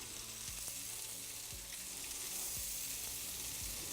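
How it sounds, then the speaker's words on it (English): Skewers sizzle steadily on an oiled Tuscan grill inside a wood-fired oven, a continuous close, soft hiss of frying with faint crackles and no talking. "they're hitting there with a sizzle"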